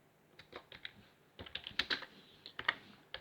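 Keys on a computer keyboard tapped while entering HTML code, coming in irregular short bursts of clicks with brief pauses, close and fairly quiet.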